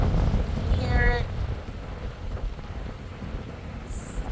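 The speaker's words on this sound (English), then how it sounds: "Like the rain is coming sideways, and that's how it looks. But you can hear it." Heavy rain driven sideways by strong wind during Hurricane Hilary in Palm Springs, California, roaring as a dense, continuous wash with wind buffeting the microphone and a voice speaking briefly at the start.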